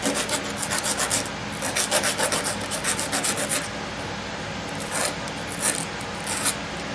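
Rusty hinge screws from an 1890s parlor guitar coffin case are lightly sanded, giving a continuous, close, rhythmic rasping scrub that fades slightly toward the end.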